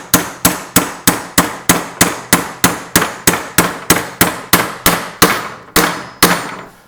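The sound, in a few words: hammering a star nut into a bicycle fork steer tube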